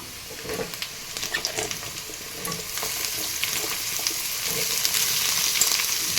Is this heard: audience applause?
no